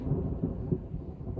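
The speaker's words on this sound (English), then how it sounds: "just when we arrived here, there is like a big thunderstorm coming" Low, muffled thunder from an approaching thunderstorm in Estonia rolls in the distance, a soft continuous rumble with a few faint swells and no voices.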